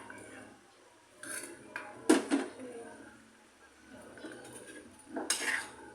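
Metal utensil scraping and clinking against a cooking pot while food is stirred, a few distinct clanks separated by quieter pauses, close by.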